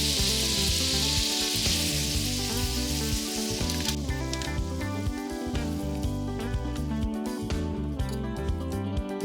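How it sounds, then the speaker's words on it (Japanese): Meat sizzles and bubbles loudly in a pan glazed with yakiniku sauce, a dense, continuous crackle that settles into softer popping and spatter as it simmers down, with no voices. "今日は焼肉のタレで味付け。 よく煮絡めます。"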